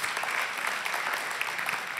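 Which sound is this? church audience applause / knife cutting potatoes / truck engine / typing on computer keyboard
church audience applause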